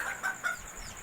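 Malaysian Serama chicks peeping, a few short high chirps close by over a faint, quiet background, about a second long.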